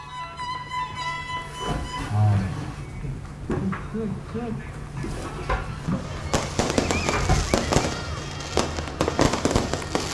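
Fireworks going off at a New Year's Eve celebration in Sidoarjo, Indonesia, a burst of sharp crackling explosions that grows denser toward the end, with faint voices and background music underneath.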